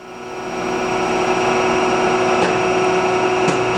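A surface grinding machine table travelling back and forth between its stops gives a steady, loud mechanical whir with a constant hum, plus a couple of faint clicks as it reverses.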